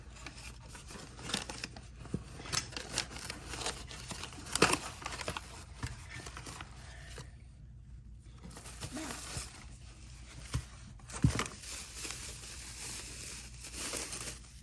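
Packaging around a Harley-Davidson factory replacement ignition sensor for a 1998 Dyna is torn open, producing close crinkling, rustling and scattered sharp snaps and tears, fairly quiet and with no speech.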